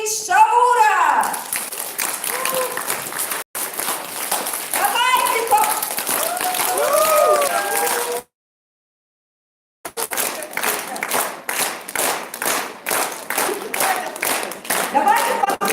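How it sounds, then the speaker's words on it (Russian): An audience at a training seminar in Yakutsk claps, a dense sustained round of applause with a short cutout partway through, loud and close, with occasional voices mixed in. "Давайте похлопаем так, как будто вы себе хлопаете."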